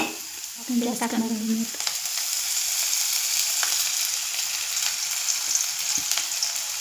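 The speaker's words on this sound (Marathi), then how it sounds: "कांदा भाजून घेऊया." Onion frying in a pan for a capsicum and potato curry, with a steady close sizzle throughout, a few spoon clinks and a short spoken remark near the start.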